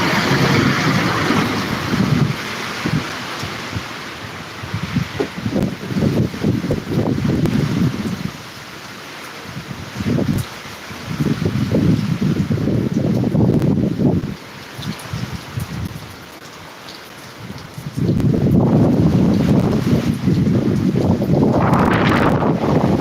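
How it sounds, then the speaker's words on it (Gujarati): Strong stormy wind with heavy rain in the dark buffets the microphone in loud, rumbling gusts that rise and drop repeatedly, with short calmer lulls between them. "પવન પણ જોરદાર છે"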